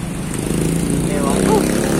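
A motorcycle engine runs steadily at a low idle while being repaired, a continuous nearby drone with a faint whine rising partway through, and people talking over it.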